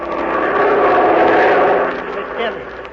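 A propeller airplane in flight, staged as a radio show sound effect for a wartime transport flight over the Hump route, drones steadily and loudly throughout while voices talk over it.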